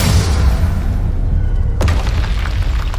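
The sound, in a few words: Defendo spell cast in Hogwarts Legacy video game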